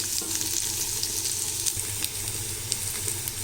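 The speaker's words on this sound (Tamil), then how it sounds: "வெங்காயம் நல்லா வதங்கணும்." Onions sauté in a pan for a moong dal and cabbage kootu, giving a steady close sizzle with light scraping and stirring clicks throughout, no voices.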